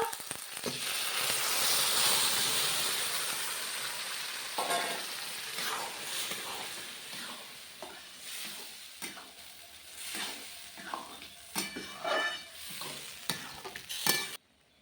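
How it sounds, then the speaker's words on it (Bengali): Boiled dal poured onto fried tomato and onion in a pan, with a loud sizzle at first that settles into softer frying and intermittent stirring scrapes. "টমেটো পেঁয়াজ সব ভাজা হয়ে গিয়েছে, একসাথে এই সিদ্ধ করে ডালটা দিয়ে দেবো"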